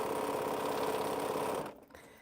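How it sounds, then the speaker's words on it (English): A sewing machine stitches a quilt in a fast, even mechanical whir that runs steadily, then stops abruptly near the end. "Something being sewed up in here."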